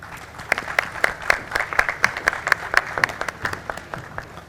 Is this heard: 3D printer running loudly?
no